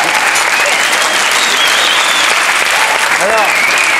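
A TV studio audience bursts into loud, dense, sustained applause that fills the whole stretch, with faint voices mixed into the roar.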